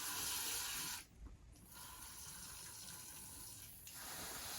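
Water sprays in hissing bursts over avicularia tarantula enclosures, a steady spray broken by a short pause before resuming, close by and fairly quiet.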